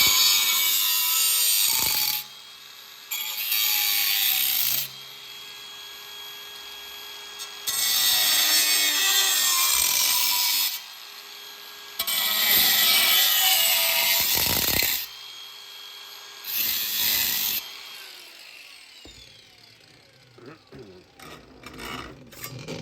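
A pie cut is sawn into sheet metal for an HJ Holden wagon inner door corner, with loud rasping cutting strokes in several long bursts separated by short pauses, close up.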